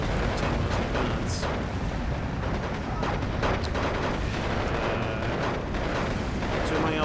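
Dense, continuous battlefield din of artillery fire and gunfire from the Steel Division 2 war game, with a forest battle at Tannenberg, as a loud, steady roar with scattered sharper bangs and no break throughout.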